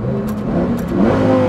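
Lamborghini Huracan STO accelerating, a steady loud engine drone from inside the car that rises slightly toward the end, with no talking.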